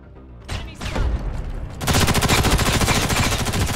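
Gunfire in Ghost in the Shell: First Assault starts with a couple of scattered shots, then breaks into a loud, close, sustained rapid automatic burst with an even rattling rhythm.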